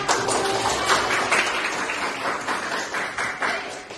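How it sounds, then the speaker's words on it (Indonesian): A classroom of students applauds together in an Islamic religious education lesson, a dense, steady wash of many hands clapping at close range that continues without pause. "berikan tepuk tangan"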